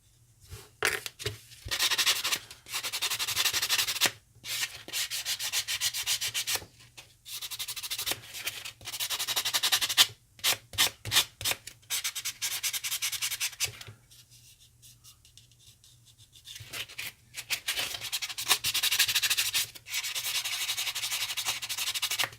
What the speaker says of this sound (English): You want to be careful when you're sanding too.